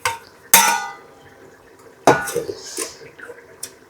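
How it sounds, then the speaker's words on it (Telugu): A lid goes back onto a pot of mutton curry: two sharp metallic clanks of metal on metal, each followed by a short ringing rattle, then a lighter tap, heard close in a quiet kitchen. "తిప్పాం కదా, ఇప్పుడు మళ్ళీ మూత పెట్టాలి"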